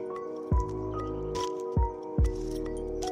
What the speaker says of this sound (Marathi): आता चिकन टाकून घेऊया